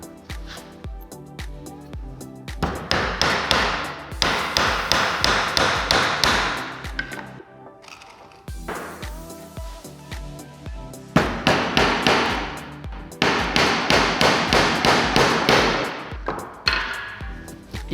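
A hammer drives nails into a wooden planter box in quick bursts of sharp taps and thuds, with short pauses between runs, close and loud.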